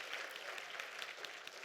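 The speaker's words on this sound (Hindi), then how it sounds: "आपकी तालियों में दम नहीं है।" Audience applause at a yoga talk on treating women's ailments, a steady wash of many hands clapping for under two seconds, even and sustained with no voices over it.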